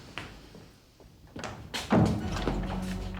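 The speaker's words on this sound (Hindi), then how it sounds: "दरवाजा बंद कर दो।" A door shuts with a dull thud partway through, after some softer shuffling, followed by a low steady hum.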